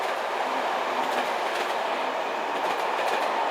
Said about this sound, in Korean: 기차는 사막의 거대한 강인 유프라테스 강을 가로질러 달립니다.